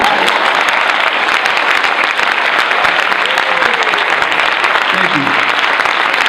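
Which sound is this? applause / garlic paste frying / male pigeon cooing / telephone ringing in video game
applause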